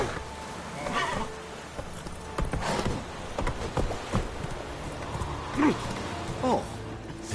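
Roach, a horse in The Witcher 3, beats its hooves in irregular clopping bursts beneath a busy game soundscape, while a voice talks over parts of it.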